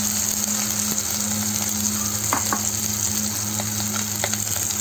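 Soaked sabudana roasting in a pan for Navratri fasting khichdi gives a steady, even sizzle with a low constant hum beneath and a few soft spatula taps.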